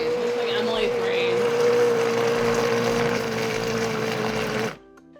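A kitchen blender whirs on its puree setting, a loud, steady motor drone with a constant pitch that cuts off abruptly near the end, while people talk over it.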